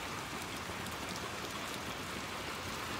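Heavy in-game rain in Little Nightmares 2, a constant thick wash of drops pattering on surfaces, close and uniform from start to finish with no voices.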